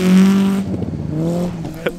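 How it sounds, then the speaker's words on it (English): A V8-swapped Nissan S13 200SX drifting on a frozen lake revs hard close by, its pitch climbing and wavering, with a brief tire squeal near the end. "driving that car is just fucking flooring it"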